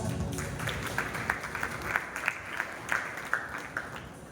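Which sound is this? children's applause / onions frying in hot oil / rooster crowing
children's applause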